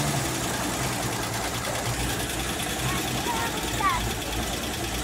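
A 1970 Willys Rural engine revs steadily right after a carburetor adjustment, a continuous rough mechanical drone close by with a faint whistle near the end.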